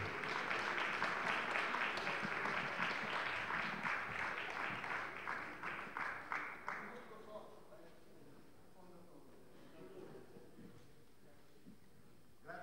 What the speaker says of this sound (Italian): rinnoviamo l'applauso